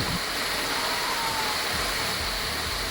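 Cheekudhra waterfall near Rajavommangi village pours with a continuous, even roar of rushing water. The rush is steady and unbroken, with no voices over it.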